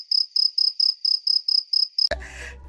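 A cartoon grasshopper chirps in a run of about eight evenly spaced, shrill buzzing pulses, clear and alone against silence, before a sudden burst of other sound cuts in.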